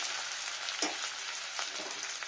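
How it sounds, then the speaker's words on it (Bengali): Ginger paste frying in hot oil with bay leaves, a steady close sizzle and hiss with a few soft stirring scrapes. "আর দিয়ে নিচ্ছি আদা বাটা। আদা বাটাটা ফ্রাই হবে।"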